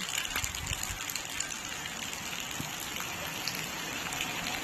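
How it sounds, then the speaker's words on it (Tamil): Heavy rain pours down steadily in a village, a dense, even hiss of drops hitting surfaces that continues without a break, with no voices. "மழை அதிகமாக வந்துக்கிட்டே இருக்குது"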